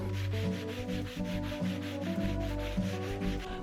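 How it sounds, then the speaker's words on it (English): A thrifted wooden desk is sanded with a steady, rhythmic scratchy rubbing in repeated back-and-forth strokes, loud and close, with a constant low hum underneath and no talking. "I'm going to sand it down with this one first"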